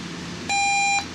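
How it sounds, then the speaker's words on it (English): One loud, steady electronic alarm beep from a General Electric 7-4695A clock radio, about half a second long, starting and stopping abruptly against quiet background hum. "I'm only going to be able to sound the alarm for a very brief period of time"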